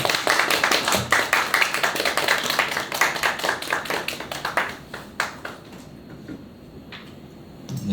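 A church congregation at a Korean Sunday worship service claps together in a lively, rhythmic round of applause that carries on steadily before thinning out toward the end.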